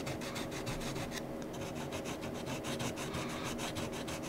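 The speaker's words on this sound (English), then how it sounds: "you'll want to sand this a bit to get a roughed up surface" Balsa wood sanded by hand to roughen its surface, a steady rapid back-and-forth rasping that runs continuously, close and moderately loud with no voices.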